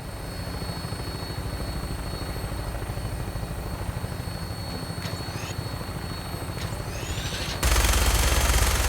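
Aircraft in flight over the Commonwealth in Fallout 4, a steady rotor-like engine drone with rhythmic chopping that holds loud and continuous throughout, swelling to a fuller roar near the end.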